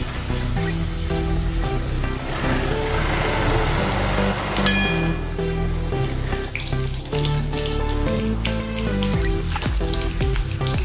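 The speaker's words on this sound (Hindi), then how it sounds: "ऐसे उलट पलट के कर हम अभी इसको तलेंगे।" A bread and poha snack sizzling in hot oil in a pan as it is turned over, a loud continuous frying hiss with occasional clinks and scrapes, no talk.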